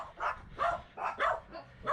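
Dogs greeting someone with a series of short yips, whimpers and soft barks, about six bursts in two seconds, close by and fairly quiet.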